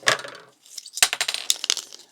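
Scissors trim the end off a strip of photographic film, giving a crisp snip followed by a run of small clicks, rustles and plasticky handling sounds, close up and quiet with no talking.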